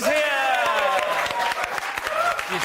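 Studio audience applauding a comedian's entrance on a talk show, a dense sustained wash of clapping and cheering heard close, with a host's voice speaking over it.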